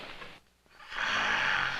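A sleeping man snores in an old western TV drama: a breathy rasp fades to a brief lull, then a long, loud, hissing snore swells and holds.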